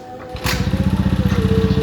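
A motorcycle engine catches with a thud and settles into a rapid, steady, throbbing putter close by, with no talk over it.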